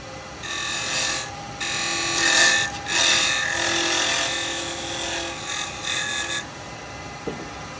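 A wood lathe spins a small laburnum lidded box while a cutting tool rubs against it in several scraping passes, giving a bright tonal whine that starts and stops. A faint knock sounds near the end.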